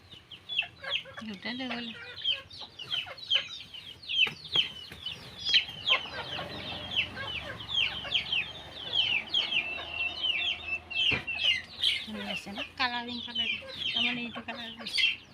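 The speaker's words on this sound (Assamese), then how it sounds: "ইমান ধুনীয়াকৈ চৰাইবোৰ চাউল খাই আছে" Chickens of mixed red and black colours peck at scattered rice at a tea garden, clucking repeatedly and busily up close, with occasional voices talking nearby.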